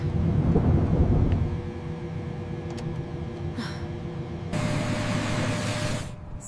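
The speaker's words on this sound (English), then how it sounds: "Thunder near the terminal?" Thunder rumbles near an airport terminal during a storm, a long low roll with steady hiss beneath it and a second swell of noise later, heard alone without any talking.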